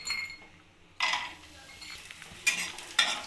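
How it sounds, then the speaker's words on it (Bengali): Sun-dried lentil dumplings (bori) fry in hot mustard oil, a soft sizzle under a few sharp clinks and scrapes of a utensil stirring in the pan. "এবার আমি বড়িগুলোকে ভেজে নেব।"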